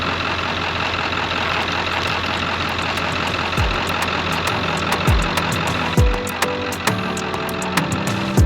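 A Ford truck engine runs steadily at idle on a snowy homestead, a constant close rumble with a few sharp knocks and thumps near the end.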